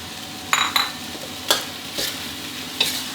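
Chicken and holy basil stir-fried in a wok over high heat: a soft sizzle runs underneath while spatula scrapes and tosses strike sharply about five times at irregular intervals, with no voices.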